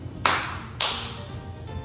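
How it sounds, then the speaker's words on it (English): Two sharp hand claps in a beginner karate kids class, spaced about half a second apart, crisp and close with a short ring after each. "Give yourself 2 claps."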